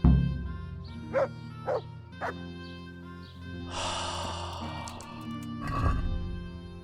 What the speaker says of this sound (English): see if you can mimic his bark